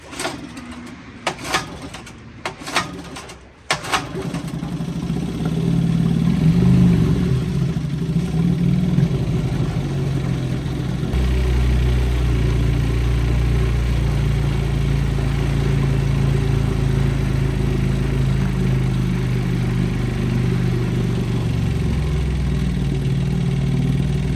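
A vintage outboard boat motor, run at half throttle with some choke, clatters through a few pulls and then settles into a steady, loud, continuous engine drone.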